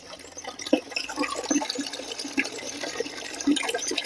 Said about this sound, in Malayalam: ഇനി വെള്ളം ഫോയ്സ് വരുന്നത് കാണാം